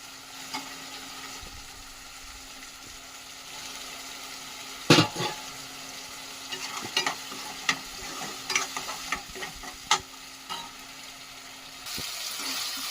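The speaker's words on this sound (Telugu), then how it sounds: "మసాలా అయితే కొంచెం బ్రౌన్ కలర్ వచ్చే వరకు వేయించుకోవాలండి" Masala paste frying in oil in a pan for a snail curry, a soft continuous sizzle broken by sharper clicks and scrapes of stirring with a spoon, no talking.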